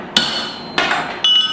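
A hand hammer rings three times on hot metal while a tiny hammer is forged, each loud, close, bright strike followed by a short metallic ring, spaced about half a second apart.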